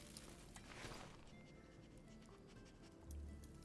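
A dog companion in modded Skyrim pants faintly and rhythmically over steady game background sound, with a low thump near the end.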